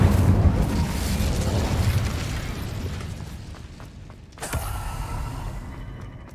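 Casting the Incendio fire spell in Hogwarts Legacy produces a dense, roaring whoosh of flame that fills the first few seconds and slowly thins. A second sharp burst then flares up and rolls on steadily.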